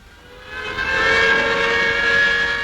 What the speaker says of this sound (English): sirens announce the end of a working shift in the valley